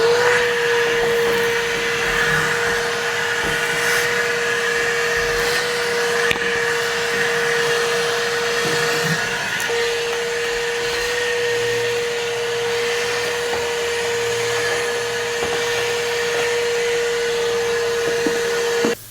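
A vacuum cleaner runs steadily and loud throughout, up close, while debris is cleaned from around the sunroof of a Foxbody Mustang, with a constant tonal whine and an even roar that stay alone without talk.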